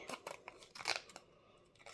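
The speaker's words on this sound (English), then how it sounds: "let's see if I can cut this out some way straight using my new beautiful Tim Holtz scissors" Tim Holtz scissors snip through textured linen-effect cardstock in a quick series of close crisp cuts, followed by a quieter stretch.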